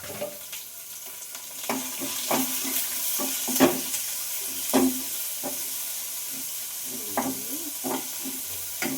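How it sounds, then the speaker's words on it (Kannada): Onions frying in a pan give a steady sizzle, broken by repeated spoon scrapes and knocks as they are stirred. "ಈರುಳ್ಳಿ ಚೆನ್ನಾಗಿ ಫ್ರೈ ಆಗಿ"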